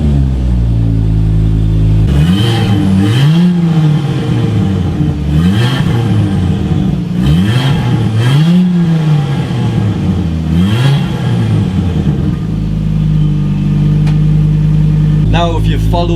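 A modified Ford Transit Connect's swapped-in Focus ST 2.5 turbo petrol engine revs repeatedly close by, each rise and fall of the throttle sweeping up and down, then settles into a steady idle.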